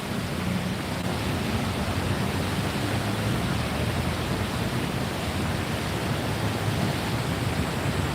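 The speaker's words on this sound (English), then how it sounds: "You guys might want to have some of my rain here" Heavy morning rain falls on a Bangkok street near an MRT station, a dense, steady roar of downpour that stays at an even level throughout without pauses and with no voices.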